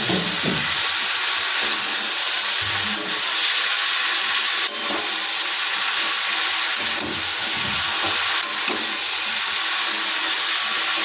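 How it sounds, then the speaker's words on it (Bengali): Winter vegetables with spring onion greens and turmeric frying in a pan give a loud, steady sizzle up close, with occasional soft scrapes and knocks as a spatula stirs them. "তাই থেকে আমরা আবার খুন্তি দিয়ে কিছুটা নাড়িয়ে নেব"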